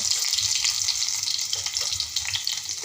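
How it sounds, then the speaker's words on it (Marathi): Chopped onion frying in hot oil for a restaurant-style veg Kolhapuri mixed vegetable dish, giving a steady, close, loud hiss and crackle that holds throughout with small bubbling pops. "आता तेल तापलेलं आहे त्यामध्ये मी कांदा सोडणार आहे"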